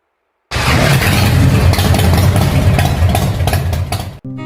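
A custom Yamaha Byson built in scrambler style runs close by, its engine throbbing at a steady idle with a slight blip, then cutting off abruptly near the end.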